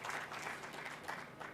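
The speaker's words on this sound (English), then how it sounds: "Also clap for me, gentlemen and ladies" Audience applause at a Uganda Communications Commission suppliers conference, a dense, steady wash of many hands clapping throughout with no voices over it.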